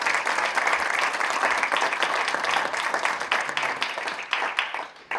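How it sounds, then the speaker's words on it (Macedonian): An audience at a literature festival book presentation applauds the author with sustained, dense clapping that fades slightly toward the end. "Ве молам еден аплауз за Евгений Водолацкин."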